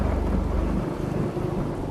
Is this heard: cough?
no